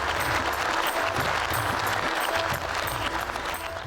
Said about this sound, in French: Applaudissez! N'arrêtez pas d'applaudir!